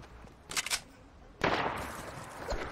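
Two sharp gunshot blasts from a pirate revolver in a video game, one brief crack followed by a louder, fuller shot that rings out into a lingering noisy tail.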